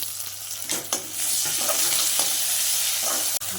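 Tomatoes sautéing with onion and green chilli in a pan, a steady close sizzle broken by several scraping stirs and one sharp knock near the end.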